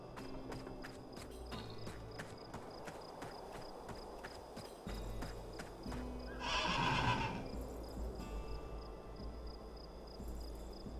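A horse whinnies loudly once in the middle in the game Vanguard, with clip-clop hooves and a steady game-like background hum throughout.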